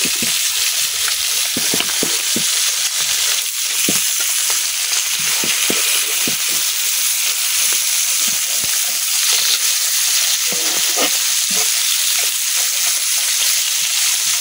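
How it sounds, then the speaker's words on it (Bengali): Taki and other pond fish fry in hot oil in a pan, making a loud, continuous crackling sizzle punctuated by sharp clacks and scrapes as pieces are turned. "আমার মাছগুলা কিন্তু ভাজা হয়ে গেছে"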